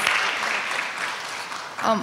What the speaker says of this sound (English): I invite everyone to give a round of applause to our panelists